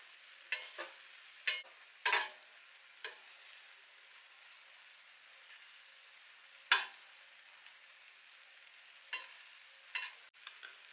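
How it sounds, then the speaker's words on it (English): Jerk prawns cooking in a pan for a curry bulgur one-pot dish, giving a steady soft sizzle with a handful of sharper crackles and scrapes spaced irregularly, fairly faint and with no talking. "my prawns are almost finished grilling"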